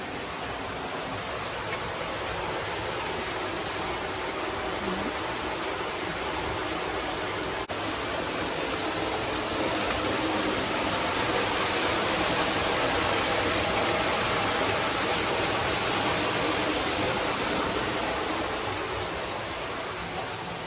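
Underground water of the Lost River rushes steadily through a cave at Natural Bridge State Park, Virginia, a dense, even roar that holds unbroken and loud for the whole stretch, with no voices over it.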